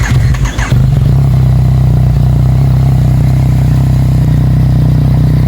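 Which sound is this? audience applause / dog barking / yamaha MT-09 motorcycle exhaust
yamaha MT-09 motorcycle exhaust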